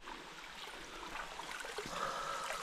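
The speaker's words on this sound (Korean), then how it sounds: "지금부터 양쪽에서 물소리가 굉장히 크게 들립니다." Mountain stream water flowing through a rocky valley in Odaesan on the way to a waterfall, a soft continuous rushing and trickling, fairly faint and steady.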